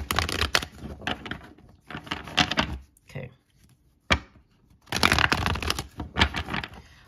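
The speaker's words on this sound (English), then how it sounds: "Let me just give this one strong shuffle and we will start your reading." Tarot cards shuffled hard in quick riffling bursts, loud and close, with pauses between the bursts and a single sharp tap midway.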